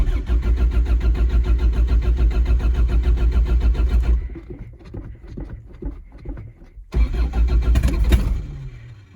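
A four-cylinder car engine cranks with a rapid, loud pulsing churn, cuts out into rattling sputters, then catches again with a strong rough roar, close by.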